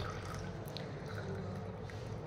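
Hot water is poured into lemon juice in a home kitchen, a faint, steady splashing trickle that runs on without a break.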